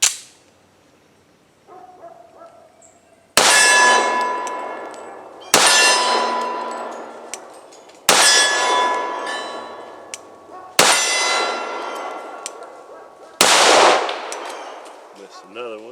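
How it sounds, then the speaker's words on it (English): Sig Emperor Scorpion pistol fired at steel targets: five loud, sharp shots spaced a couple of seconds apart, each ringing with a metallic clang and decaying tail, heard up close at an outdoor range. "we'll fire off this last mag"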